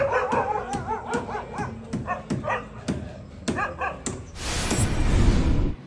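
Stray dogs in Chakan town barking in a rapid series of sharp, loud yips and barks close by, followed by a burst of broadband noise at the end.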